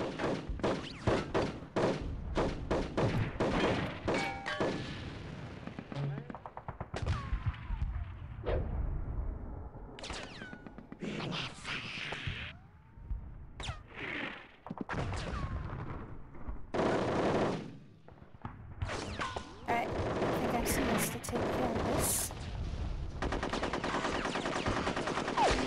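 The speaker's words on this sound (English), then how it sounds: "Present arms. Take aim. Wait for it. Choose a target. And fire." Soldiers fire their guns in the video game Conker's Bad Fur Day. Dense, loud bursts of machine-gun and rifle fire pile up with heavy thuds and explosions, rattling almost without pause, with short lulls between volleys.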